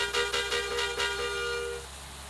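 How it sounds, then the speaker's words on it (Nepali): A vehicle horn honks in a quick run of about five short, bright pulses while riding on a road, fairly close and sounding over a steady low engine and road hum, then the honking fades out. "3 वाला हर्न बज्दै भनेको"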